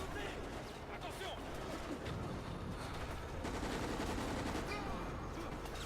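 Dense rapid gunfire from the zombie shooter Resident Evil: Operation Raccoon City, a constant rattle of shots beneath near-continuous talking.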